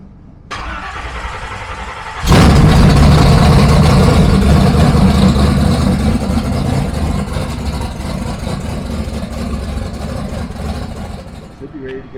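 A Chevrolet Nova engine cranks and catches, roaring loudly at first before settling into a steady, rumbling idle to warm up, close by and continuous.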